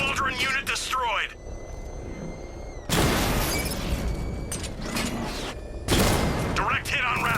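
In Batman: Arkham Knight, explosions strike a Rattler armored vehicle in heavy bursts of blasts and crackling gunfire that cut in abruptly between stretches of mechanical whine, with radio-style voices talking over the action.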